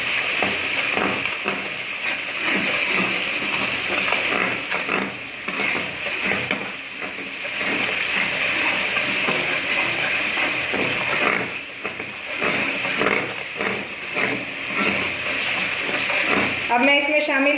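Ground onions fry in a pan for a chicken cholay dish, giving a steady, loud sizzle with occasional stirring scrapes, under someone talking.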